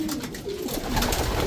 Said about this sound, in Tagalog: Ayan po, 2022 young bird siya, mga kalapatids.